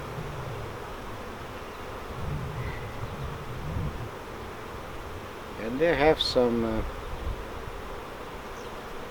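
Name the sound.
honey bees buzzing during hive inspection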